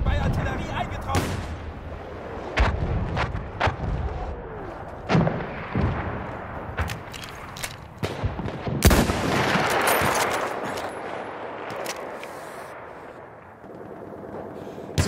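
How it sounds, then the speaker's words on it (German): Artillery fire in a sniper-combat game: repeated heavy booms and sharp reports scattered through the scene, with a louder burst of blasts in the middle, under intermittent voices and background noise. "coordinates have been sent to our artillery."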